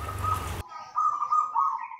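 A short burst of noise, then a zebra dove's soft cooing calls, a couple of steady tonal notes close by.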